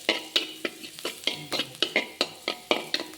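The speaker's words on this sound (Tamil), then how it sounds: "நல்லா மசாலா பொடி போட்டு சேர்த்துட்டு நல்லா வாசம் வர அளவுக்கு கிண்டிட்டு" Masala powder is stirred in a hot pan with rhythmic scraping strokes, about four per second, over a soft sizzle. The strokes sound close and crisp.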